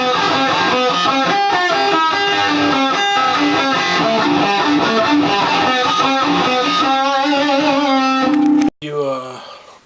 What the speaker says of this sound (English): if you listen to Bach, the classical composer, you use that instead of brain music